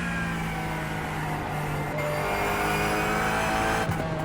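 A rallycross car drives in a racing simulator, its engine droning steadily with a rising buzzing tone and tire noise, fairly loud and continuous with no talking.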